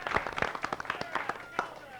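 An audience at a Challenge Bowl quiz competition applauds at halftime, a burst of close, crisp individual claps in an uneven patter, with voices talking over it.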